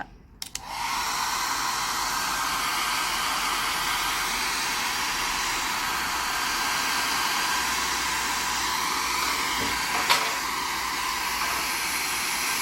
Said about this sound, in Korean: 제가 드라이 기계로 한번 좀 더 말려 보겠습니다.